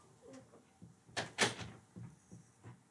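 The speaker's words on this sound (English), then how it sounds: "Can somebody shut the door?" A door being shut indoors, a quick double thud of the closing and latching heard at moderate distance, with faint room noise around it.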